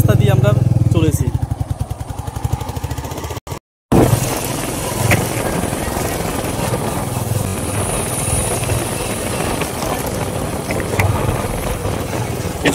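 A motorcycle rides along a narrow village road beside the Tangon river, its engine droning steadily with rattles and a brief dropout, while a voice talks over the running bike.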